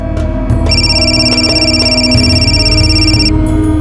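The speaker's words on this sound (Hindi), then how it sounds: "अरे किसका फोन आ रहा है बार बार?" A loud electronic phone ringtone plays continuously, a bright repeating tone over a low hum, close up.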